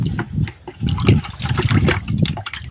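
Close, uneven splashes and sloshing of water in irregular bursts, like liquid being tossed and spattering against a surface.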